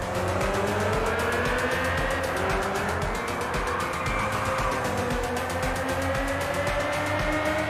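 A Ferrari 288 GTO racing around Silverstone in Gran Turismo 6, its engine droning steadily with rising and falling pitch as it accelerates and shifts, loud and continuous with no talk.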